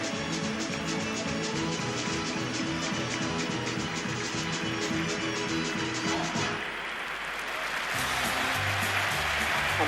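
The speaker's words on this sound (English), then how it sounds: "And applause for the Gradamir ensemble from Belgrade" Sustained applause from a large stadium crowd at the 1974 FIFA World Cup opening ceremony in Germany, dense and continuous, with a shift in texture partway through as the clapping swells again.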